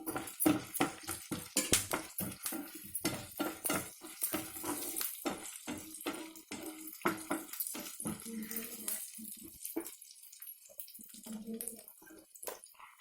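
Onions and curry leaves fry in a pan for a pumpkin curry, with a steady sizzle broken by frequent sharp clatters and scrapes of stirring throughout.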